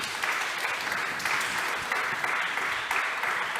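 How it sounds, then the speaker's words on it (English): Steady, dense applause from the audience at a hybrid panel event hosted with the Swedish consulate, a continuous broad wash of many hands clapping for several seconds at an even, moderate level. "And we should give them a big applause."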